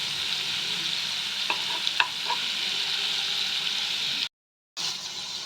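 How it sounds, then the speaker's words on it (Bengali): Close, steady sizzling of paneer frying in a pan while it is turned, with a few spatula clicks and scrapes over the hiss and a brief silent gap near the end. "এইভাবে একটু উল্টে পাল্টে আমি ভেজে নেব"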